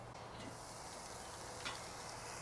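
Thin beef burger patties sizzle on a grill with a quiet, steady frying hiss that stays even throughout, with one brief crackle partway through.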